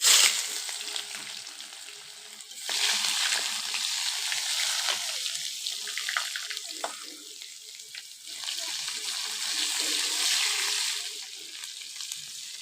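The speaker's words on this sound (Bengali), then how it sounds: "পেঁয়াজ কুচি দিয়ে দিচ্ছি" Chopped onions fry in hot oil for a Bengali chicken and potato curry, giving a loud, hissing sizzle that swells and eases in waves as they are stirred, with a few soft clinks.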